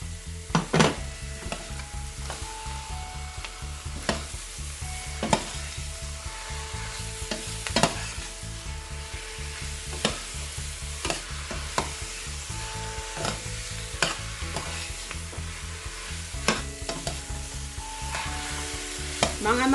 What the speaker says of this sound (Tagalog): And then we can now put the chicken. Let's saute this until it becomes brownish.